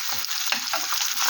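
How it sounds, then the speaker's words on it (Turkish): Mackerel fillets dredged in corn flour sizzle and crackle steadily in a frying pan, a dense continuous hiss with small pops, close and fairly loud with no voices. "Yine iskumbriye balığını kızartıyorum ben."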